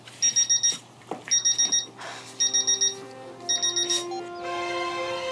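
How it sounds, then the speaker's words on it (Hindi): A digital alarm clock beeps in quick bursts of four, repeated four times at a steady pace, loud and close, before a rising musical tone takes over. "अलार्म बज रहा है"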